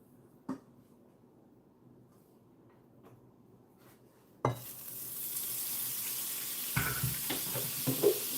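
Food hits a hot frying pan with garlic and onions and erupts into a loud, steady sizzle after a quiet stretch of light kitchen clatter, with a few clanks of utensils on the pan.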